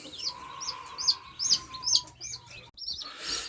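Newly hatched chicks give a series of high, short peeping chirps, about eight in a few seconds, near and fairly soft over a faint steady hum.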